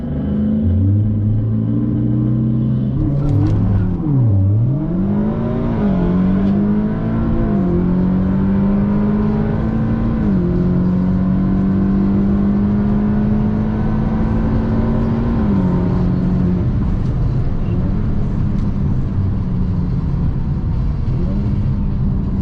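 Stage 2 Audi S3 accelerating hard down a quarter-mile drag strip, loud in-car engine drone rising through the gears with a brief dip at each shift, then a long steady high-speed pull.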